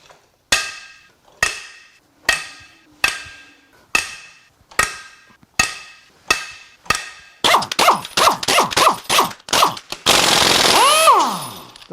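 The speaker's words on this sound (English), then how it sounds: "Now we can crack the head bolts loose." Bolts on a Ford 6.2L V8 engine are cracked loose with a series of sharp, loud impact bangs, evenly spaced at first and then coming faster, ending in a sustained rattling burst, close by.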